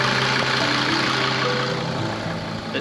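A Mercedes Sprinter camper van's 2.9-litre five-cylinder diesel idles close by in a steady, even low rumble with a faint high whine and no talking.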